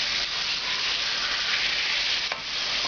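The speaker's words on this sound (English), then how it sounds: "Now we're going to add all of the tomatoes." Tomatoes hitting a hot pan of frying garlic for restaurant-style butter chicken, a loud, steady sizzle and hiss that holds strong throughout with a brief flare near the end.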